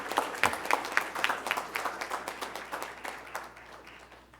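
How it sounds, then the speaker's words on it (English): An audience at a wellness promotion task force event gives a round of applause, moderately quiet and close, with distinct individual claps that gradually thin and fade toward the end. "So please give a big round of applause for the great work that they have been doing."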